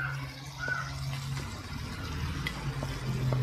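Fried fish being stirred into biryani masala in a pan gives soft scraping and stirring with a faint, steady sizzle underneath, quiet and close.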